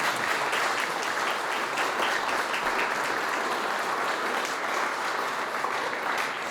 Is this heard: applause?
yes